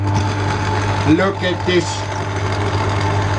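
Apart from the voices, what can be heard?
stand mixer running with dough hook, cookie dough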